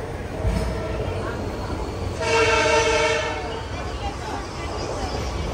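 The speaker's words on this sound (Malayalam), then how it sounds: "ഫൈനലി ഹൈദരാബാദ് ഡെക്കാൻ നാംപള്ളി റെയിൽവേ സ്റ്റേഷനിലേക്ക് വണ്ടി എത്തിക്കൊണ്ടിരിക്കുകയാണ്" Hubballi to Hyderabad Deccan Nampally Express pulling into Hyderabad Deccan Nampally station, a steady rumble of rolling cars with a brief tonal horn-like swell midway, under a constant close rushing noise.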